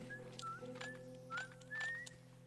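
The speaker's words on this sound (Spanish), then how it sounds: "Estoy silbando." A character in the zombie survival game The Last of Us whistles a short wavering tune, several thin rising and falling notes over a low steady hum, close and fairly soft.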